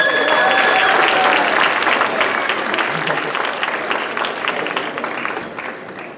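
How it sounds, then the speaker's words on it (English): Loud audience applause and cheering, a dense clatter of many hands that slowly tapers off, with a few voices mixed in. "Can we give them another round of applause?"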